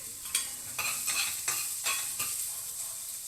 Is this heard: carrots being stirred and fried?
yes